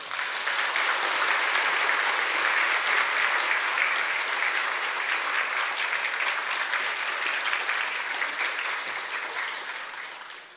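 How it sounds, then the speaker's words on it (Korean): A church congregation bursts into loud, sustained applause to welcome a pastor to the pulpit, a dense, even roar of many clapping hands lasting about ten seconds before tapering off. "목사님 나오실 때를 큰 박수로 환영하도록 하겠습니다."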